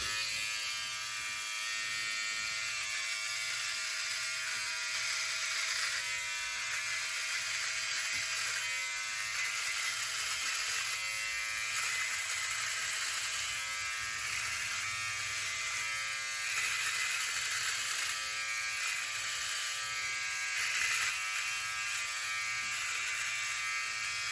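A OneBlade electric shaver runs steadily as it shaves a face upward against the grain, a continuous close, even buzzing hum that lasts throughout with slight variations in pressure and no talk.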